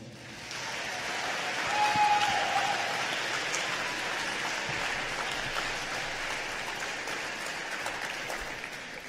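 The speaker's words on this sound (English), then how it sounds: "Let's give them a huge round of applause." Sustained audience applause fills a large hall at the first session of the 98th South Dakota FFA State Convention, swelling early and then holding steady as a dense wash of clapping with no talk over it.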